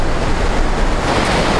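Steady broadband surf on an empty Oregon beach near Newport and Depoe Bay on a calm morning, continuous wash of breaking waves close by, loud and even with no voices.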